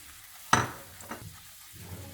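Mint leaves hit melted butter with a sudden sharp sizzle that quickly fades, followed by softer crackles and the scrape of stirring in the pan.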